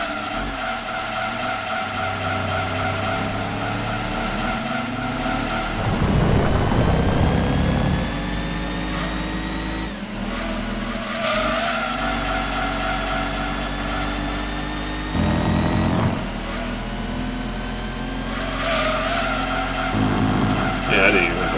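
Racing engine of a Cobra Mustang on wide tires lapping Laguna Seca in Gran Turismo 2, a steady droning rev with rising pitch sweeps through gear changes, bursts of tire skid noise in corners, loud and continuous with voice over it.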